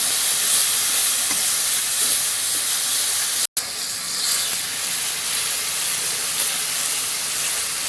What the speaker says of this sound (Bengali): আবার ভালো করে নেড়ে একটু কষিয়ে নিয়ে মশলাটাকে ভালো করে।